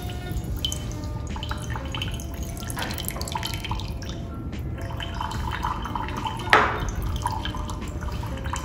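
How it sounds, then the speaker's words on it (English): Colored tap water drips steadily through folded Whatman filter paper during a lab filtration test, with soft, close droplet taps over a continuous wet trickle and one sharper splash near the end. "This is a simulation that we run filtration with colored tap water."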